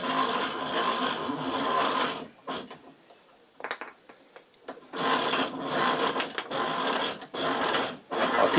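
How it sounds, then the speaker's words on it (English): A metal bench vise being wound closed around a wooden blank for a sickle or billhook handle, giving bursts of clicking, ratcheting metallic mechanism noise with a short quieter gap in the middle. "So if we just close the vise up"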